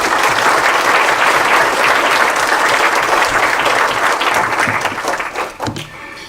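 A lecture audience applauds to welcome a speaker on Chinese political culture. The clapping is dense and loud throughout the room, holds steady, then thins out and fades near the end.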